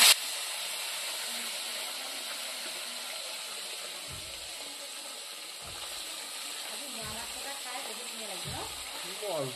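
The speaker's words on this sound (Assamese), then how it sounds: "মিঠাতেল তেল গৰম হৈ গ'ল এতিয়া দি দিছো মাছ" Small fish fry with greens in hot mustard oil, village style, making a continuous close sizzling hiss with occasional pops and spatters, while a voice talks over it.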